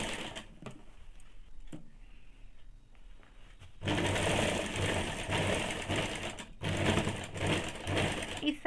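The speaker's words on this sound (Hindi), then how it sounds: "इस प्रकार से पूरे में नीचे की तरफ सिल के 1/2 इंच में सिलाई कर लेंगे।" A sewing machine stitches a seam on a high neck blouse, first in short quiet bursts, then in a loud, steady run of rapid mechanical clatter with brief pauses, close to the microphone.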